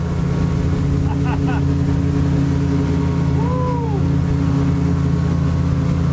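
An outboard motorboat engine drones steadily and loudly nearby as the boat turns at speed and picks up RPM, with a short high whistle-like sweep partway through.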